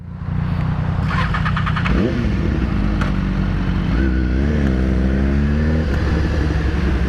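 A BMW S1000RR and a Yamaha MT-09 accelerate hard, with a loud, close engine roar that climbs in pitch through rising revs and gear changes and never lets up.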